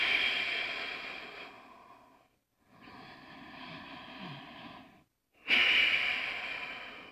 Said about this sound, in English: Every time you breathe out, it's Ujjayi Pranayama.